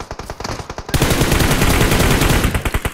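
Gunfire in the PUBG battle royale game: a few sharp separate shots, then loud, dense automatic bursts that keep going without a break.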